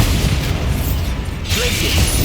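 A Bombarda spell blast from the Hogwarts Legacy video game: a loud mechanical burst with a booming pop, followed by a rumbling crackle, with no talk.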